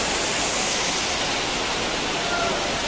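Rainwater rushes through emptied livestock pens at the Deonar goat market during monsoon rain: a steady, loud, broadband hiss of flowing water that stays even throughout, with no clear voices.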